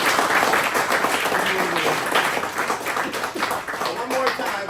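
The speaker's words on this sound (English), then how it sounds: "give yourself a round of applause" An audience applauds on cue at a motivational talk, a steady wash of many hands clapping at fairly even loudness for several seconds with crowd noise and a voice mixed in.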